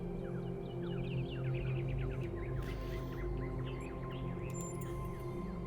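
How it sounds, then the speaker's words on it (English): Several birds chirping and twittering in quick bursts outside a dome in the video game The Talos Principle II, over a low, steady ambient hum, fairly quiet and somewhat distant. "Do you hear the birds chirping outside the dome?"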